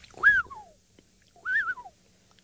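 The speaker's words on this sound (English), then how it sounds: "You might have heard the characteristic call of the black-headed oriole just before." A black-headed oriole gives two clear liquid whistled calls, each a rising-then-falling phrase about a second apart, fairly near in a quiet cool morning with no talk.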